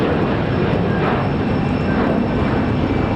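Airliner taking off from Raleigh-Durham International bound for LaGuardia, a steady broadband jet roar holding loud and even throughout with no voices over it.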